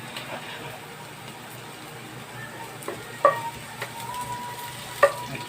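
Tomatoes frying in a hot pan give a soft, steady sizzle, with a couple of brief utensil clinks against the pan.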